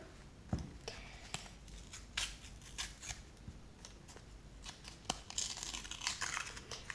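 Close, quiet crinkling and sharp tearing of a paper packet, with scattered rustles and clicks as it is pulled open.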